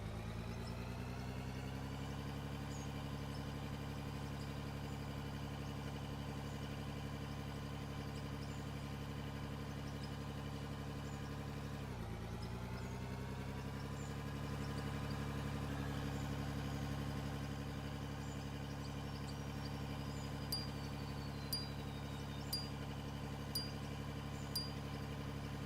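A vehicle engine idles in the mining game Out of Ore, a steady droning hum that runs throughout with a brief dip midway and faint clicks near the end.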